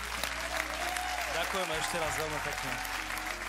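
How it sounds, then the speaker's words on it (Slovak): Loud, dense audience applause fills a talent show hall from start to finish, with a host speaking over the clapping. "To si zaslúži veľký potlesk a veľký obdiv."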